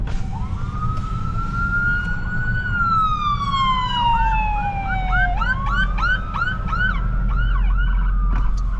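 An ambulance siren wails nearby on a road between Utah and Wyoming, a long rising and falling tone that switches to a rapid yelping pattern over steady traffic rumble.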